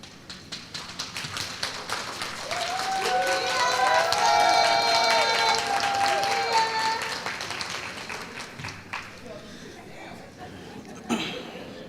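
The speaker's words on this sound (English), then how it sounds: "Please stand up and give them a round of applause" A crowd at a nursing graduation ceremony breaks into sustained applause that swells to a loud peak and slowly fades, with a few voices calling out over the clapping.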